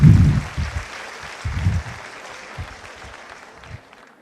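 A stand-up comedy crowd applauding, the clapping loudest at the start and then dwindling away, with short bursts of low voices rising and fading underneath before it goes quiet.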